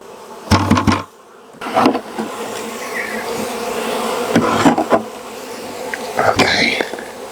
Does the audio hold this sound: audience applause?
no